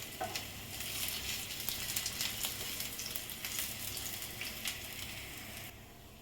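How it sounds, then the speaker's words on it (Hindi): Food sizzling steadily in a pan as it fries until crispy, a continuous close crackle with a few sharper pops, no talking. "इसे अच्छा क्रिस्पी होने तक मैं इसे फ्राई करूंगी"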